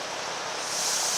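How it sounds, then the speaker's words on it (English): Air hissing through a paint spray gun at its first air stage, a steady broadband rush that grows slightly louder toward the end, heard alone. "here's the first stage of air. Okay, you can hear the air."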